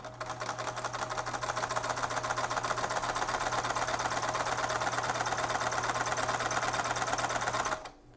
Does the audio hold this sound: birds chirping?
no